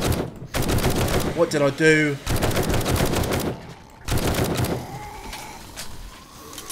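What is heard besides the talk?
gunfire from guns in the video game 7 Days to Die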